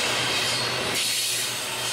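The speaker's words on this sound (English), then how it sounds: "I would thought this would be the last train for the day" A freight train, an intermodal, rolls past on a quiet Saturday, giving a steady, loud broadband rumble and rail rubbing noise that continues without a break, with no talk.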